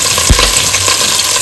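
Asafoetida and green chili dropped into hot oil with cumin give a loud, close sizzle, marked by one sharp clink or stir early on, the frying hiss holding steady throughout.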